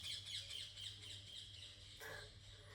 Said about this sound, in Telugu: వీడియో స్టార్టింగ్లోనే పక్షులు సౌండ్స్.